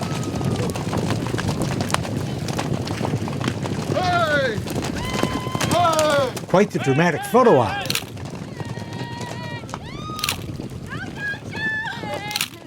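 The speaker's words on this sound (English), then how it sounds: "Quitting time for the horses. And they put on the thrilling show as they head out for their overnight pasture, running for all they're worth." Hooves of a herd of ranch horses pound along as they gallop out to their overnight pasture, a steady drumming under loud shouts and talk, with whinnies rising over the running.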